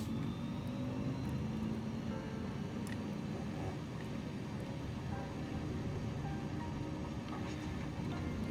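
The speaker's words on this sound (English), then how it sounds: "All right, here we go. Throttling up." A light tail-wheel aircraft's engine throttles up for takeoff in a steady, droning roar, fairly distant and even in level, with faint clicks on top and no voices.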